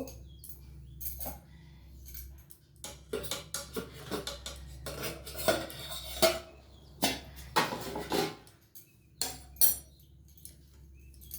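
Metal pot and steamer lid clattering in a kitchen as the gas stove is turned off and the lid lifted, a series of close, sharp clinks and scrapes over a faint steady hum.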